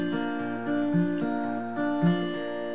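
Fingerpicked acoustic guitar pattern for a song, with one finger holding the sixth string and the second and third left unfretted, sounding as a steady, close, ringing arpeggio of plucked notes played alone.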